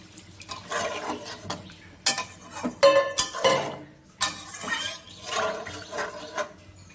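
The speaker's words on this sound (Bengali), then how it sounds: "মশলাটা আমার ভালো করে কষানো হয়ে গেছে, এবার আমি জল দিয়ে দিব।" Water poured into fried spice paste for a fish curry with potato and stems in a pan, giving bursts of splashing and hissing with clinks of utensils against the pot.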